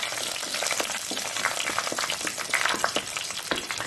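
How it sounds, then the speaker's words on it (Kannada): Curry leaves fry in hot oil alongside browned garlic for a Mangalorean sardine pannopkari, a dense, loud crackling sizzle with bursts of popping throughout, close up and with no one talking. "ಬೆಳ್ಳುಳ್ಳಿ ಸ್ವಲ್ಪ ಬ್ರೌನ್ ಕಲರ್ಗೆ ಬರುವಾಗ ಸ್ವಲ್ಪ 1 ಎಳೆಯಷ್ಟು ಕರಿಬೇವಿನ ಸೊಪ್ಪನ್ನು ಹಾಕೊಳ್ಳೋಣ"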